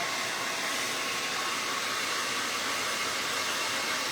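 A dryer blows on a decoration to set it, giving a steady, unbroken whooshing rush of air that stays even and fairly close throughout, with no talking.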